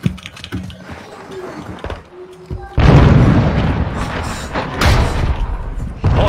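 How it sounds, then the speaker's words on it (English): A stun grenade goes off in a video game: a loud burst of noise that hangs on for a few seconds after quieter clicks and thuds, followed by another surge of blast noise near the end. "Throwing a stun grenade"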